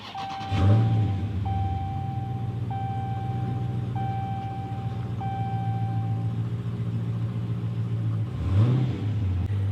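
A 2020 Dodge Challenger Scat Pack started by push button with the brake held. A quick starter whir kicks into an engine flare, then a steady low idle runs under repeating chime tones, and a second flare rises near the end.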